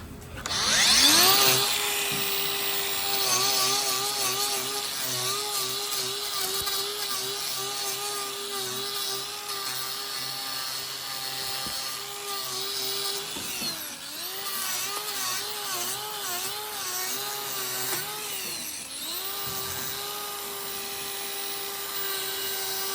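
A power tool grinds steadily on a cow's hoof claw during a routine trim, a close, sustained high whine that dips and recovers as it bites into the horn, running without talk.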